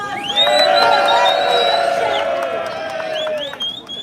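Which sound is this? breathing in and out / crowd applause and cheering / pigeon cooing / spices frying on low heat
crowd applause and cheering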